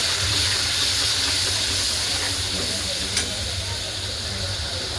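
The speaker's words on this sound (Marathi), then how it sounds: "थोडंसं आपण पाणी टाकून घेऊया ह्याच्यात" Water poured into an onion and tomato masala in a hot pan, a broad steady hiss of steam and bubbling that persists close up, with a brief clink near the middle.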